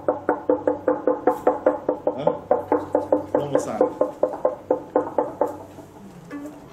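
A violin with a loose chinrest gives off about twenty quick, evenly spaced knocks with a buzzy rattle, tapped close by in a steady rhythm that slows and fades near the end.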